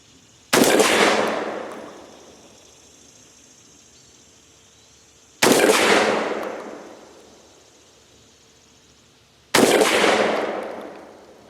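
An SDS Titan semi-automatic 12-gauge shotgun fires 3-inch magnum shells outdoors. Three loud, sharp blasts come several seconds apart, and each one trails off in a long echoing decay.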